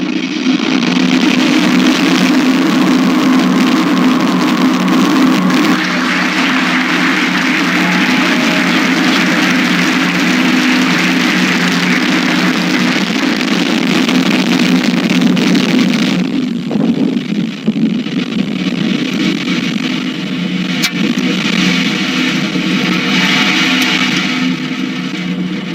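SpaceX rocket launches on a laser-equipped Starlink mission from California with a loud, continuous roaring rumble. The roar holds steady and then thins out and fades somewhat as it climbs away.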